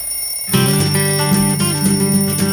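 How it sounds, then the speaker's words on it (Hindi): A loud, close alarm clock bursts into a continuous shrill metallic ringing after a half-second of near quiet, clanging on without pause. "अरे कोई बंद करो इस अलार्म को।"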